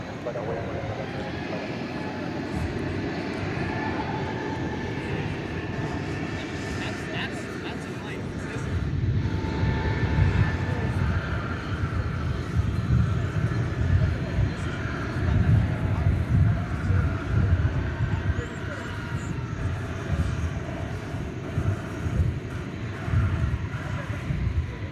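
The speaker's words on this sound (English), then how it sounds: "an Airbus A320 Neo with Lewis, the greater sage grouse on the tail" An Airbus A320neo jet airliner departing at DFW Airport gives a broad, rising engine rumble that swells midway and holds steady, moderately distant, with a voice talking over it.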